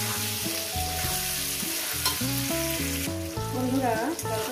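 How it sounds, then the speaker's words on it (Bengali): Vegetables and potato pieces frying in a pan give a steady broad sizzle, with clear melodic music playing loudly over it throughout. "দেখুন বন্ধুরা আমি কীভাবে সবজিটাকে ভেজে নিচ্ছি।"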